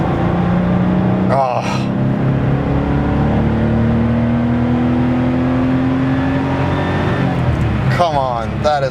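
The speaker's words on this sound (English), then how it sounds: "it sounds like every flat six Porsche that I love. It's got just such a nice mechanical noise to it" A Porsche 993's air-cooled flat-six pulls through a long, rising rev with a gear change on a road trip, a loud mechanical engine note heard from inside the car, with a brief exclamation from a person.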